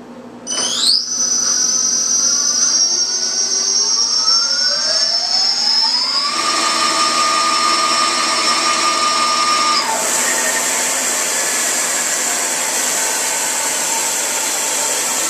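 Electric motors driven by Castle Creations Phoenix Ice 100 controllers start with a rising electronic whine that climbs in pitch as the thumb throttle is opened, then hold a loud, steady high tone before dropping back.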